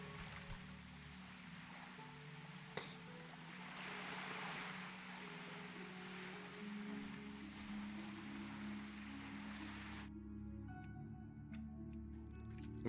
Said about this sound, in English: That white noise of the rain was getting a little bit annoying.